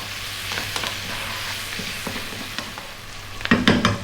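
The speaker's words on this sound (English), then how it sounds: "Now the onion, couple of cups of onion. So you can see it's quite a vibrant heat. We're going to go for 3 minutes stirring all of the time." Onion being stir-fried over high heat in a hot pan, a steady close sizzle with scraping stir strokes throughout and a louder burst of spatter near the end.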